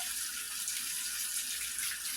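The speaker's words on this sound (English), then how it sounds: "And you just wash them." Warm tap water runs steadily into a sink while raw meat is rinsed to draw out blood, a continuous bright hiss with no speech.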